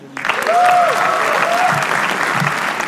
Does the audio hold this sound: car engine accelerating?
no